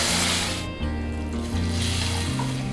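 Water poured from a cup into a pan of sautéed cluster beans for Kathiyawadi guvar dhokli curry, a steady close rushing splash lasting a couple of seconds over a low hum.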